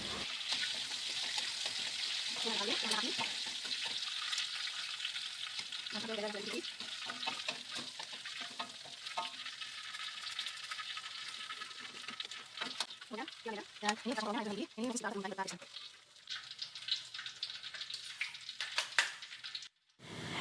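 Steady sizzling as garlic and shallots fry fills the background, with occasional stirring scrapes and a voice talking intermittently over it.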